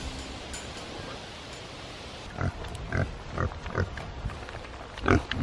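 Pigs grunt and rustle while eating their morning feed on a farm pasture, with irregular snorts and bursts of movement over a soft noisy backdrop, fairly close and with no talking.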